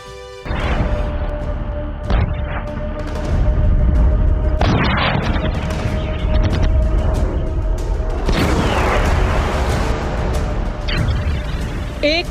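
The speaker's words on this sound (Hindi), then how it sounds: "एक धमाका और पूरी कायनात धुआं धुआं।" An atom bomb explosion in a news report, a series of loud, deep booms and crashing blasts over about twelve seconds, with rumbling debris between them.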